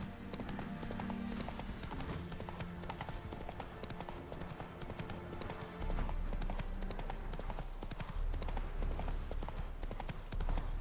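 Hooves of Roach, the horse in The Witcher 3: Wild Hunt, pound in a steady galloping clip-clop that carries on throughout, close and loud over a busy game soundscape of ambience and music.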